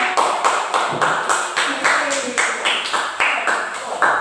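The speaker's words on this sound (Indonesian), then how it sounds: "Ya, tepuk tangan untuk." A classroom of pupils claps in unison for two classmates coming forward to tell a story, a crisp, regular beat of about fourteen group claps in steady rhythm.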